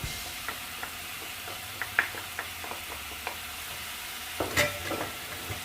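Ground meat and parsley frying in a pan for an Algerian cauliflower gratin, a steady close sizzle broken by scattered scraping clicks of a utensil stirring, with a louder clatter near the end.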